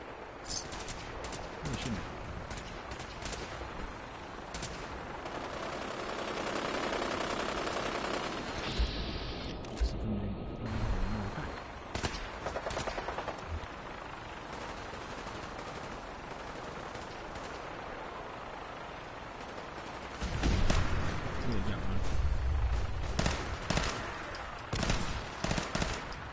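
Gunfire in Fallout 4 on modded survival difficulty: rapid bursts and scattered shots over a busy game background, moderately loud, with someone talking during parts of it.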